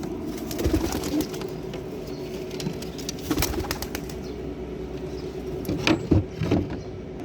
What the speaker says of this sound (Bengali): 10টা কবুতর উড়াবো।